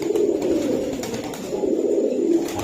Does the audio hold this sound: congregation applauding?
no